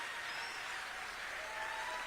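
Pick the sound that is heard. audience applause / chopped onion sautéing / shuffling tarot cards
audience applause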